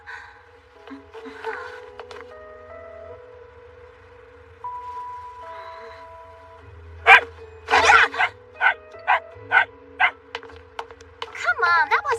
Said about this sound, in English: Oh, it's a puppy!